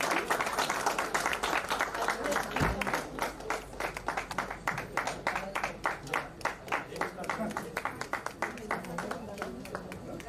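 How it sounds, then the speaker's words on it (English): Sustained applause from an audience at an alumni get-together celebration for the 1987 batch as they walk up onto the dais, dense clapping throughout that thins slightly toward the end, with crowd murmur underneath. "Can we have a round of applause as they come up the dais,"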